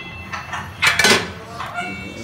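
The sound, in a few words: serving chicken curry from the cooking pan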